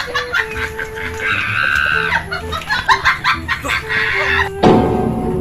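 Chickens and a rooster clucking in several close, uneven bursts, with a short crow-like call partway through, over a busy background with some distant voices.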